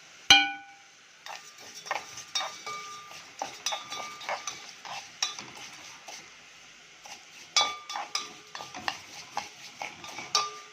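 Rice with vermicelli being stirred in a pot, a spoon scraping and clinking against the metal in a steady series of short strokes, close and fairly quiet.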